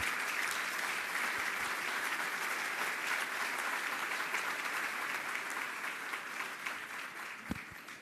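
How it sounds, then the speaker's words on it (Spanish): A large crowd applauds steadily and loudly at a political event in Mérida, Mexico. The dense clapping holds at an even level throughout and eases slightly near the end. "les pediría un fuerte aplauso para todos"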